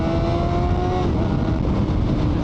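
A Suzuki GSX-R superbike engine hums along on the road, a smooth continuous drone with a faint rising whine, loud and steady, accompanied by wind and road noise and no voices.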